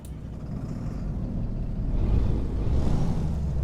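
A Freightliner Argosy truck engine in American Truck Simulator rumbles low and steady, growing louder and rougher midway as it revs, with no talking.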